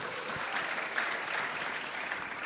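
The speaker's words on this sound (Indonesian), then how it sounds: "Tepuk tangan dong." Audience at a wayang santri shadow-puppet performance claps in a steady, moderately distant burst of applause, an even texture of many hands with no speech over it.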